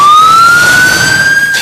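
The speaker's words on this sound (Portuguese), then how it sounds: "Um som pode ser bem longo, como a sirene de uma ambulância" Ambulance siren, a loud close steady wail that slowly rises in pitch over under two seconds, heard alone with no talking.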